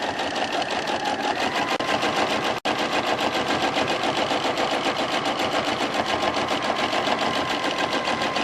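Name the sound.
sewing machine free motion quilting a feathered border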